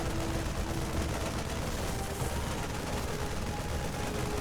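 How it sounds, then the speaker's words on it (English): Marines firing on a Protoss pylon in a StarCraft 2 Legacy of the Void match, a steady dense rattle of rapid gunfire held at constant loudness throughout, with a faint tonal hum underneath. "Marines on the high ground can now finish off this pylon, depowering the cannons"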